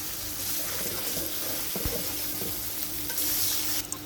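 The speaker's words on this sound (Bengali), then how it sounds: "প্রথমে হলো যে মাছটা কষাই নিতেছে" Hilsa fish pieces being fried in spices in a pan for a hilsa and taro curry, a dense continuous sizzle with occasional stirring scrapes and a low hum, close up and without voices.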